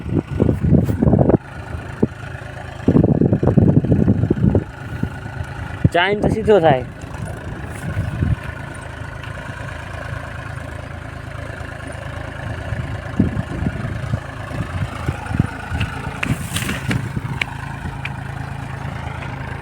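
A mid-pitched engine idles steadily throughout while someone talks loudly over it at the start, with brief mechanical clanks in between.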